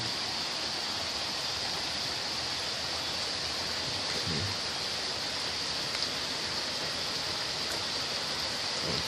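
Heavy rain pours down steadily beside running water near young coconut trees, a dense, even hiss that fills the whole clip at a constant level, with one brief spoken word.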